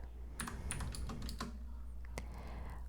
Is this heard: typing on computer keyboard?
yes